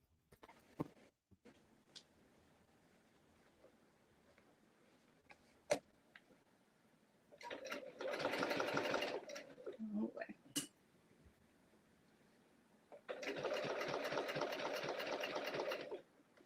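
A sewing machine stitching a Mercantile tote bag, running in two steady bursts of rapid mechanical whirring a few seconds apart, with scattered clicks and fabric handling between them.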